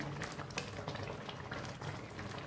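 Rice for Bengali fena bhat boils in a pot, with faint, steady bubbling and soft popping close by.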